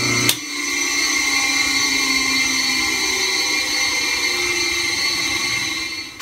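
Newly wired electric motor on an Atlas lathe, a click of the switch and then a steady, even whine and hum as it runs at constant speed, close, with no talk.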